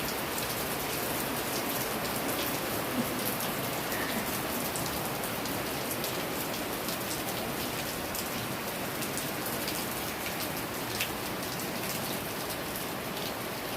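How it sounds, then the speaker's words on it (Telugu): Steady rain falls continuously on plants and a neem tree, a dense even hiss of drops pattering on surfaces with no pauses, moderately loud and unbroken throughout. "పడుతూనే ఉన్నదండి వర్షం"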